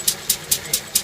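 A 1951 Lister D stationary engine with water cooling and no radiator runs alone, giving five evenly spaced, hissing exhaust-like beats over a low steady rumble.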